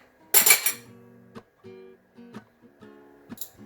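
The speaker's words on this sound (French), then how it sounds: "Je vais faire frire l'ail que je vais écraser." Garlic being crushed for frying brings one sharp clattering knock, then a series of softer ringing taps and clinks of metal and crockery, close and distinct in a quiet kitchen.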